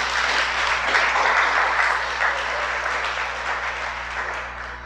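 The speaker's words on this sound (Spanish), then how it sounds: "Dale un aplauso al Señor." A congregation at a Shabbat service applauds together, a steady wash of many hands clapping that holds evenly for several seconds before slowly easing off.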